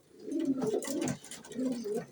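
Pigeons cooing inside a pigeon loft, two soft throaty coo phrases close by, separated by a brief pause, with no voices.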